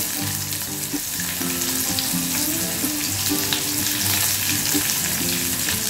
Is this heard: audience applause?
no